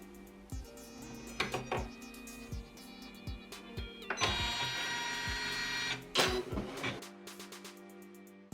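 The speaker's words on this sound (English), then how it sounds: "So the first stitch is going to be a placement stitch." An embroidery machine sews a placement stitch, giving a fast mechanical whirring and clicking with repeated sharp ticks and a steady motor hum. It sounds close and it runs without any talk.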